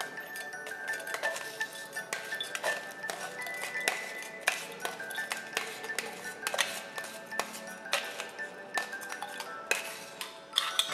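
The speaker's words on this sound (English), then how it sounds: "and directly pour it in your glass." A crushed cocktail mix is tipped into a glass, producing rapid, quiet clinks and ticks of ice and glass, dense and irregular, close by and without talk.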